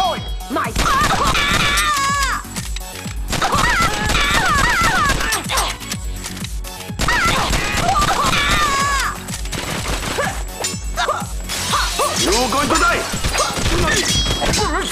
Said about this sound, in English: I shoot faster with auto fire with this guy, though.